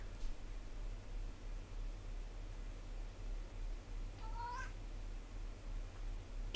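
A cat gives a single short, rising meow partway through, faint over a steady background hiss and low hum, with no talking.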